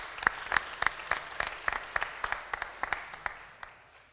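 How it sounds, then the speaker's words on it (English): Applause for certificate recipients at a school ceremony, a small group clapping in distinct, fairly even claps that thin out and fade toward the end, quiet and slightly distant. "one more round of applause for all of you"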